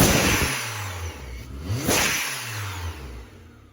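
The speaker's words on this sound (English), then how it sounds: "so the legit blow-off valve, there's actually a bigger opening right there, and it sounds a little bit different" A turbocharged K-swap Mini Cooper's blow-off valve vents after engine revs, giving two sharp whooshing releases about a second apart, close and loud over the car's mid-pitched engine note.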